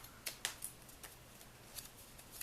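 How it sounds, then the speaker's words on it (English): Scissors snip through paper during a punch art craft, a few quiet crisp snips spaced irregularly over a soft room background. "I'm going to take my scissors from the center to the top corner"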